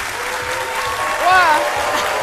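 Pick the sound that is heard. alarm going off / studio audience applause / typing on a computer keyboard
studio audience applause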